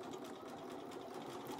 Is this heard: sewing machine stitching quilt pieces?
yes